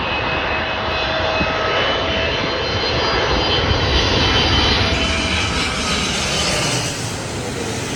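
A Turkish Cargo Boeing 777F jet arrives at O'Hare, its engines a loud, continuous broadband roar that stays strong and close throughout.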